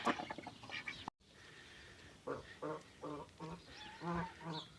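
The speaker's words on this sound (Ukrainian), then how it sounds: "Ну, гусочки дуже люблять з качечками" Farmyard geese and ducks honk and quack in a series of short, separate calls after a brief gap, near and moderately loud with faint background noise.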